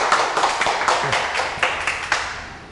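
A seminar audience applauds a real estate tax lecturer with steady, moderately close hand clapping that holds a fairly even rhythm of distinct claps throughout.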